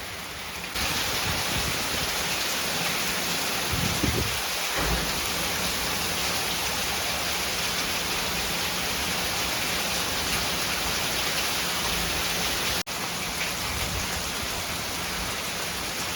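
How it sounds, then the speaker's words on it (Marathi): Heavy monsoon downpour in a village, a dense, unbroken hiss of rain at constant loudness, with a low rumble of thunder early on and a brief dip near the end. "मुसळधार पावसात लोक फिरताना"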